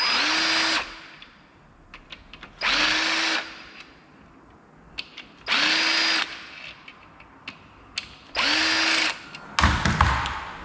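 A power tool cracks loose the bolts on a VR6 engine crankshaft during an engine strip-down, running in four loud whirring bursts that each wind down, separated by pauses with small clanks of metal.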